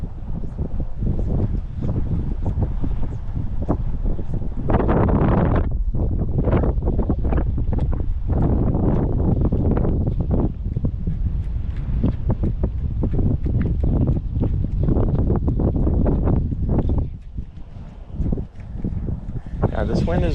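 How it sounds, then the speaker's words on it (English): Strong, relentless wind gusts on open water during bass fishing from a boat, roaring steadily and loudly across the microphone with brief lulls near the end. "this wind is relentless"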